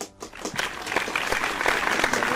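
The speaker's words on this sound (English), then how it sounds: "Let's give a round of applause for Nurse." A small group claps for a nurse, the applause building from a few scattered claps into a steady, close patter that holds to the end.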